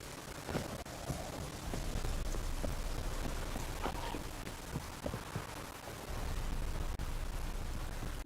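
Steady rain patters on surfaces in the video game The Witcher 3, a dense continuous hiss with scattered louder drops throughout.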